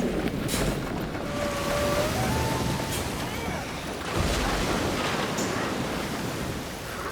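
A sailing ship in Assassin's Creed Black Flag rides through wind and waves, with steady rushing surf and gusts, creaking timber and faint crew voices in the background.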